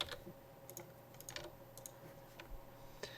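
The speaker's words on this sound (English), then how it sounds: "just did a bunch of typing" Bursts of computer keyboard typing at a desk, irregular clicks in quick clusters with short pauses, fairly quiet over a low steady hum.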